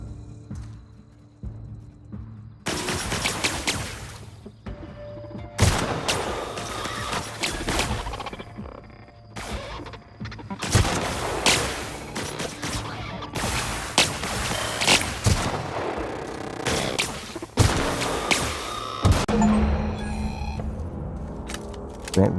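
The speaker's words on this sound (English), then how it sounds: "Shoot him right in the belly." Gunfire in the video game The Outer Worlds, with bursts of loud shots and impacts repeating through the stretch, dense and close, with occasional talk underneath.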